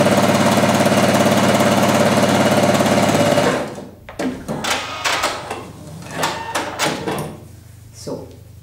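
A sewing machine stitching a seam on a child's pointed hat hums in a steady, close, rapid drone for several seconds, then stops, followed by softer clicks, fabric handling and bumps.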